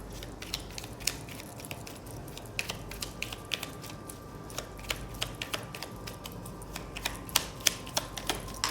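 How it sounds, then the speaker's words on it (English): Quiet, rapid crisp clicks and flicks of tarot cards being shuffled, irregular bursts repeating throughout, close up with no talking. "let me just shuffle the tarot as well."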